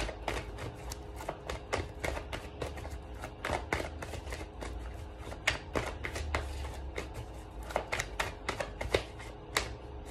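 Tarot cards riffled and shuffled by hand in quick irregular bursts of crisp snaps and flutters, close and fairly quiet, with no talking.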